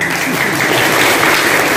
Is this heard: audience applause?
yes